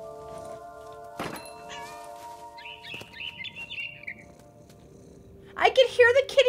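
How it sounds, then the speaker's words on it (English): A cat purrs as the player character in What Remains of Edith Finch, with a short bird chirp heard earlier, a dull thump, and a louder burst of sound near the end, all over steady game ambience. "I can hear the kitty purring."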